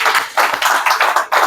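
An audience claps to welcome a guest: loud, close bursts of hand claps in a quick, uneven rhythm over a second and a half.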